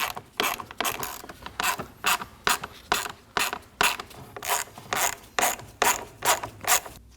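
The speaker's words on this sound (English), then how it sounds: "To remove the motor from the assembly, we're gonna be using a T25 socket." A ratchet with a T25 socket loosens the window motor bolts on a 2011-2016 Kia Optima rear power window assembly, giving rapid, regular clicking bursts at close range with no talking.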